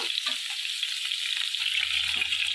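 Pointed gourd (potol) frying in oil in a kadai until reddish, giving a loud, steady, close sizzle throughout with a faint low hum near the end.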